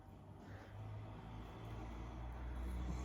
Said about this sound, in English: My bedroom window's open, so you can probably hear the cars going by outside.